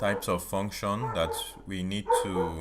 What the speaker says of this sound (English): I guess the noise from the dog outside is entering the recording